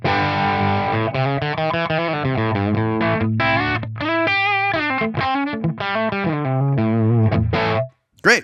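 An electric guitar played through a Tonex captured tone model, raw with no reverb, compression or noise gate, rings out as a distorted riff of sustained chords and single notes for several seconds before a brief pause and final stab.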